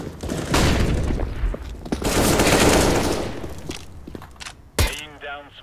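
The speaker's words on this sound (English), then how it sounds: "Throwing flashbang." Busy CS:GO firefight on Cobblestone, with a flashbang thrown amid heavy rattling gunfire and thuds, ending in a sharp bang followed by a ringing tone, as voices talk over the action.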